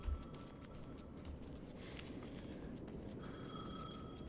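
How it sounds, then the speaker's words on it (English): Telephone ringing in the horror game Alan Wake II, a steady electronic ring heard twice, once faintly near the start and again more clearly toward the end, over a dull low rumbling ambience with no talk. "The phone again."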